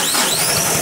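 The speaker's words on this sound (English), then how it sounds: "Engine fired up" A Shibaura N844L diesel engine (Perkins 404D-22) in a New Holland tractor running after air was bled from the fuel system, a loud, close, steady mechanical drone with bright high-pitched whine over it, briefly heard.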